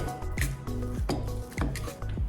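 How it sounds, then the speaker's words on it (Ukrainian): A fork scrapes and clinks against a bowl while mixing cottage cheese with a raw egg, giving repeated short metallic taps and scraping strokes at a steady rhythm, close and moderately loud with no talking. "Спочатку трошечки виделкою змішуємо цих два інгредієнти."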